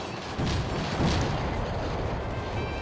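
Heavy booming fire from a rapid-firing tower in Cossacks, a dense rumbling barrage that holds steady and loud over the whole stretch.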